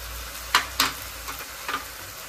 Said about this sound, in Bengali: এটা একটু ভাজা হচ্ছে